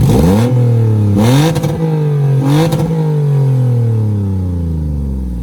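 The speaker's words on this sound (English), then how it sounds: "the exhaust is real. It's not fake like other manufacturers do just to make it look cool." A 2013 Lexus IS350 AWD sedan's engine revving up and settling three times through its real exhaust, close and loud, with the final rev trailing off slowly.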